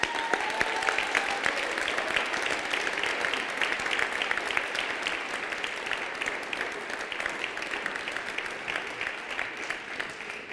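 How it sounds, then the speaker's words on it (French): Sustained audience applause at a town New Year's greetings ceremony, a steady dense wash of many hands clapping for about ten seconds, fairly even in level with no voices on top. "je vous recommande d'applaudir avec nous Hervé Sens qui va venir nous rejoindre."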